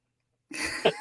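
A single close sneeze picked up by a desk microphone during a live stream, a sharp burst at the start followed by a brief breathy trailing sound, with no talking.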